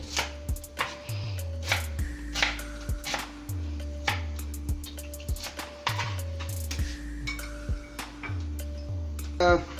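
A red onion is finely chopped with a knife on a board for a masala omelette, giving rapid, close, crisp knife taps in uneven bursts, while a low steady hum runs underneath.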